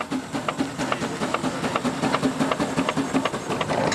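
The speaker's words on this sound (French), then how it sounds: "On va démarrer, on met la marche avant, on tire l'arrivée des vapeurs" An old agricultural steam tractor chuffs steadily in an even, rapid rhythm with a continuous hiss of steam, loud and close throughout.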